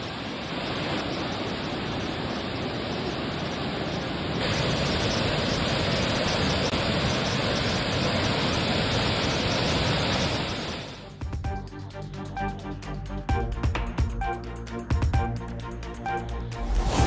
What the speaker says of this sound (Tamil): மேட்டூர் அணையில் இருந்து திறக்கப்படும் நீரின் அளவு குறைந்தது.